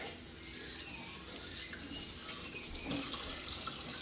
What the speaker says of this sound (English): Wash your hand properly